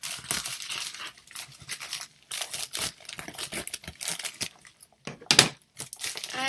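Someone opens a parcel wrapped in tape, with close, loud bursts of crinkling and tearing packaging broken by short pauses.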